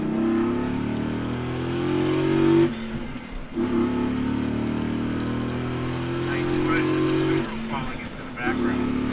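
A 2006 Dodge Ram SRT-10 pickup accelerates hard in first gear, its V10 roaring loudly from inside the cab and climbing through revs, dipping briefly at a shift before pulling again, while occupants talk excitedly over the engine.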